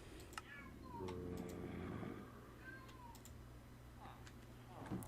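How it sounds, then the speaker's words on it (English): A cat meows loudly and repeatedly at a door, with rising and falling cries over a steady low background hum, while people talk faintly in the background. "there is a cat screaming at my door"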